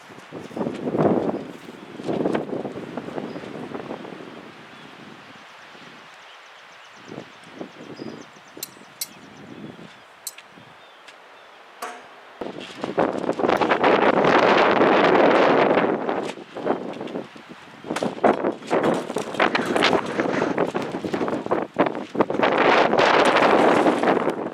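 Strong outdoor wind gusts roar against the microphone on an off-grid homestead during a lumber haul, with loud broadband bursts early on, a calmer stretch, then sustained heavy buffeting through the second half.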